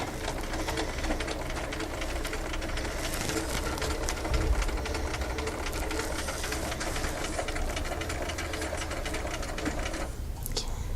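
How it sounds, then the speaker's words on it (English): Home sewing machine stitching fabric during a children's slit-and-sew project, a steady continuous mechanical whir running the whole time with a brief bump near the middle and a drop at the end; someone speaks over it. "Can you keep this across here and sew straight for me?"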